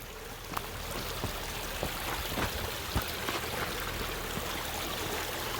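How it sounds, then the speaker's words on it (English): Creek water running over rocks on an off-road trail, a steady broadband rush and trickle with small splashes throughout, continuous and close. "The creek running through it, kind of wet and slippery."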